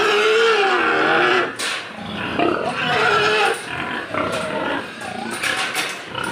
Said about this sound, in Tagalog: Puro dagkuan nga baboy, mga boss.